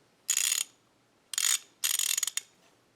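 A 1/2 inch ratchet gives three quick bursts of rapid clicking, each under half a second, crisp and close in an otherwise quiet space.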